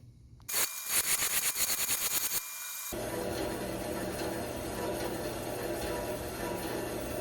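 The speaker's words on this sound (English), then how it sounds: "make some little slits on the saw" A hand saw cuts slits into an aftermarket part to form a notch, giving a quick run of rhythmic rasping strokes before a steadier grinding-like noise takes over.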